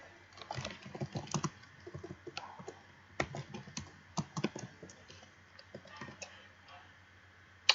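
Fingers type on a computer keyboard during a Minecraft session, bursts of quick, close clicks with pauses between, fairly quiet and alone.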